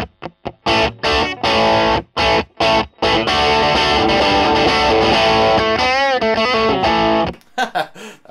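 An electric guitar runs through a Marshall BB-2 Bluesbreaker boost pedal with the tone knob fully off and the boost set around one o'clock, giving loud, crunchy overdriven chords in choppy bursts with short pauses, and no talk.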